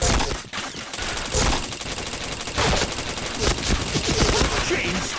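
Gunfire in a shooter video game during headshot kills, with repeated loud rapid-fire bursts separated by short pauses, close and dominant throughout.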